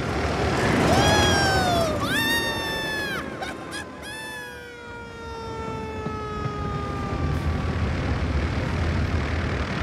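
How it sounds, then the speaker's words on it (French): Cartoon propeller aircraft engine in a Thomas & Friends episode, a loud continuous droning whir with rising and falling whining tones sweeping across the clip, heard alone without speech. "Arrête l'hélice, tu entends?"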